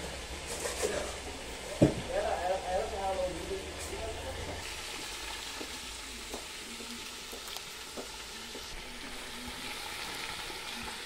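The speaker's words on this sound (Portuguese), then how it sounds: "Daí tá fritando frango aqui, gente, ó." Chicken frying in a pan on a wood-fired stove gives a soft, continuous sizzle, with a clank and stirring sounds near the start and scattered small pops afterward, fairly faint and close.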